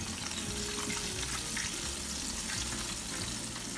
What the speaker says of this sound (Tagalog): Haluto na ang ating tofu.